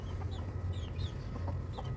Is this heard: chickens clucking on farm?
yes